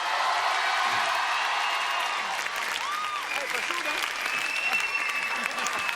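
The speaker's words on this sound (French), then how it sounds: "Attention, un tonnerre d'applaudissements" A TV studio audience bursts into sustained applause for a guest on a live French variety show, dense loud clapping with a few whoops and cheers, steady for the whole stretch.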